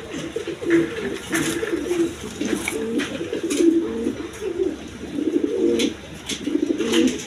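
At a busy pigeon market, many pigeons keep up throaty, overlapping cooing, a repeated rolling coo close by, with occasional clatters and rustles of the stall in the background.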